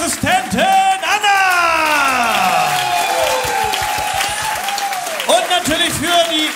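Audience applause and some whoops at the close of a German evening singing show, a dense wash of clapping running under a singer's sliding, held vocal notes and later speech.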